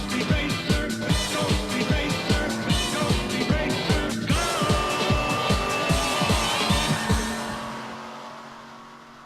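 A drag racing car roars down the strip at Dothan Dragway, its loud engine rapping rhythmically as it climbs through the run, then fading away into the distance.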